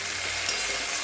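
Okra seasoned with salt and turmeric fries in a pan with a brief, steady sizzle and the scrape of stirring, close and continuous, no talking.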